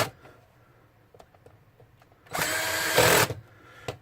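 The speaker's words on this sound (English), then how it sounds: "The drill instead of my hand" A power drill drives a screw into a PlayStation 2 casing, one loud whirring burst of about a second after some quiet clicks and handling taps, heard up close.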